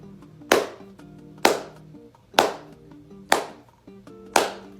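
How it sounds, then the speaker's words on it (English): Five loud, crisp hand claps spaced about a second apart, each a sharp isolated strike with a short decay, performed as a ritual to energize medication and health items; no one talks. "I like to clap 11 times or until I feel like it's ready"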